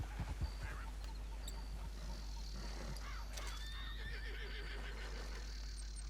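A horse in the video game Red Dead Redemption 2 whinnies over a low steady hum, with a few hoof clops and faint background sounds.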